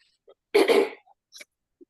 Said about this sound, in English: I seem to have developed a little cough this morning.